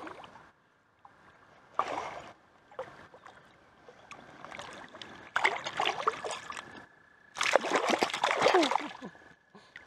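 A rainbow trout thrashes and splashes in stream water while being handled during fishing, with bursts of close, loud splashing in irregular clusters separated by quieter moments.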